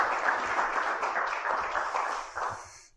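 Audience applause following a lecture introduction at the Lowy Institute, a steady wash of many hands clapping at moderate level that tapers off toward the end.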